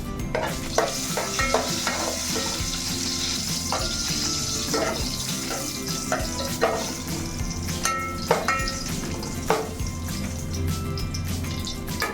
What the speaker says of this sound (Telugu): నూనె కొంచెం కాగాక ఫస్ట్ ఎండుమిరగాయలు వేసుకోవాలండి.